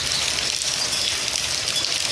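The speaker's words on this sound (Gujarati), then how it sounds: "આવી રીતનો કંઈક વરસો છે અત્યારે, ધીમી ધીમી ધારે." Light rain falls steadily on a Gujarat village, a soft, even hiss of drops with no voices.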